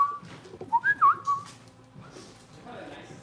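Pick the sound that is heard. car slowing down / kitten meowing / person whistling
person whistling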